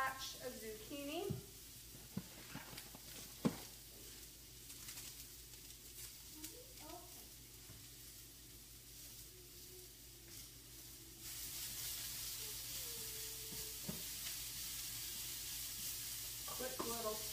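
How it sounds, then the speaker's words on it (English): Zucchini spaghetti sizzles faintly in a pan during a quick stir fry, with soft scraping stirs and occasional clinks, then a louder hiss toward the end; someone speaks briefly. "Quick little stir fry."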